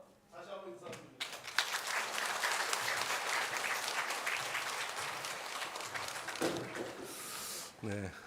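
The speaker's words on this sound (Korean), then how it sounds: "환영의 박수로 맞아요." Warm, sustained applause from a church congregation welcoming newly baptized infants at a Children's Sunday service, filling the room for several seconds with steady clapping and some voices mixed in.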